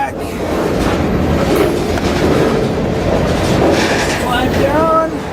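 A freight train rumbles loudly nearby with a steady roar and rhythmic clatter of wheels, ending with a high metallic squeal, arriving in Lincoln.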